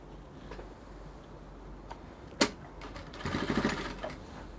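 A sewing machine runs in short stitching bursts while hemming the bottom of a bubu dress, with a sharp click partway and a denser, louder run of stitching near the end, fairly close and without talk.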